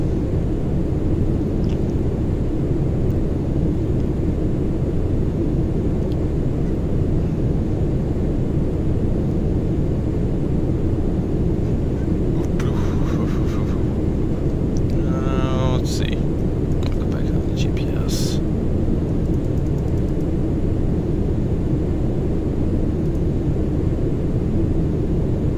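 A Southwest 737-700 airliner cruises in Flight Simulator X, a constant loud engine and airflow roar with a few brief chirps midway, while a person talks over it.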